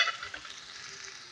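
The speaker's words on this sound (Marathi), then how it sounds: "जिरे, मोहरी, हा बारीक केलेला मसाला कढईत टाकून घेत आहे।" Cumin, mustard seeds and a finely ground masala hit hot oil in a wok, giving a quiet bright hiss that flares at the start and settles into a steady sizzle, with no voices.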